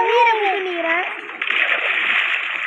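A character in the Lokicraft game splashes into water, a burst of splashing and sloshing following a voice at the start.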